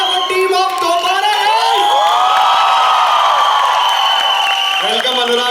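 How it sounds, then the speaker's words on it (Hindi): A college crowd cheers and whoops loudly for the Dobaara film team, with high shouts and a sustained roar of voices filling the space, clapping mixed in underneath. "जोरदार तालियां फॉर टीम ऑफ दोबारा।"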